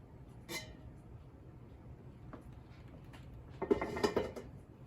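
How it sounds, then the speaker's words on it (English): The metal lid of a steam canner holding watermelon rind preserves is lifted off after the heat is turned off, a quiet metallic clatter and scrape near the end after a brief clink, otherwise a faint room hush. "I'm going to lift off the lid"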